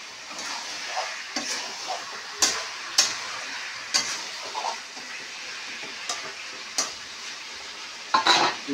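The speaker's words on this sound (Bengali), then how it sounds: "আর একটু নেড়ে দিই।" Food in a frying pan is stirred with a utensil, sharp scraping knocks recurring at irregular intervals over a soft background sizzle, fairly close.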